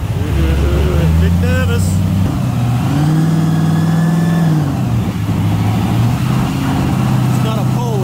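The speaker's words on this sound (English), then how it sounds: "Strapped down on the dyno, and we're ready to give her its first hit." A blown VK Mako engine strapped to a dyno revs through its first run, loud and close, the note rising, holding steady, dropping and climbing again while a voice talks over it.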